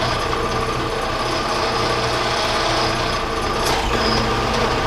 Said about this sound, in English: Might want to actually tighten the drill chuck.